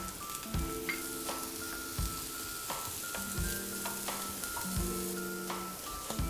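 Eggplant sizzling in a pan over medium-high heat, a continuous close frying hiss with intermittent stirring scrapes, under a repeating musical tone.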